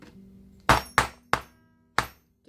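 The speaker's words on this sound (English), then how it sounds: "I'm using a rawhide hammer." A rawhide hammer drives a 1/8 inch hole punch into leather on a granite slab with a cutting mat. Four sharp, close thwacks come at uneven intervals, each decaying quickly, over a faint low hum.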